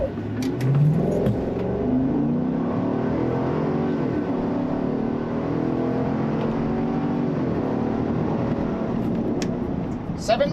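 A 2025 Chevrolet Tahoe High Country V8 in Sport mode launches from a brake-torqued stop and accelerates hard toward 60 mph, engine rising through gears in a sustained roar heard from inside the cabin, with brief speech at the start.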